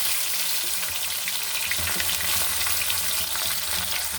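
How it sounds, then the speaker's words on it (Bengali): Chopped onions frying in hot oil with cardamom, cinnamon, cloves, bay leaf and whole cumin, sizzling loudly and continuously while being stirred in the pan. "পেঁয়াজটা আমার ভাজা হয়ে গেছে"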